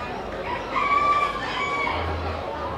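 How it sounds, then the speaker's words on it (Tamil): A Belgian bantam rooster crows at an agricultural show, a thin, moderately near call lasting about a second over a steady background of crowd and barn noise. "இந்த சேவலுக்கு பேர் வந்து பெல்ஜியன் பென்ஜம் காக்."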